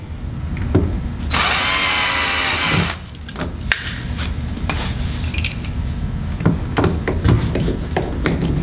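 A power drill bores through a plastic boat hull while an anchor trolley is installed, one loud whirring burst of about a second and a half, followed by clicks, taps and handling noises close by.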